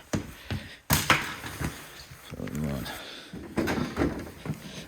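An interior door leading from a garage into a house opens and closes with sharp clicks and wooden thumps, a few knocks spread across several seconds while a person speaks nearby.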